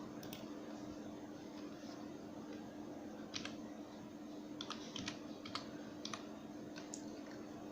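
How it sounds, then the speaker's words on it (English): Computer keyboard keys tapped while a password is entered, a short run of light, scattered clicks over a steady background hum, no voices. "Here type password 2 times."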